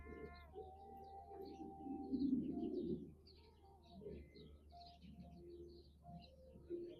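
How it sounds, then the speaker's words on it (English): Outdoors at a ranch, doves coo in soft, low repeated phrases while other small birds chirp faintly in the distance, set against a quiet breezy background. "Enjoying the sound of the birds, the breeze."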